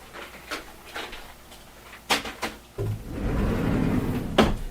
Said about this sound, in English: Closing closet door.